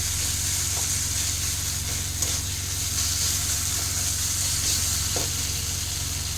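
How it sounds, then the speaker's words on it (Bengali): Spice masala for egg curry fries in a pan, sprinkled with a little water, giving a steady close-up sizzle with faint stirring scrapes throughout and no talking. "খুব সামান্য জল ছিটিয়ে কিন্তু এটাকে লাল লাল করে একদম কষিয়ে নিতে হবে।"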